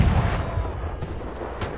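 Gunfire in the Napoleonic-era battle game Holdfast: Nations at War, a rumbling barrage of distant musket and cannon shots with a couple of sharper cracks over continuous low battlefield noise.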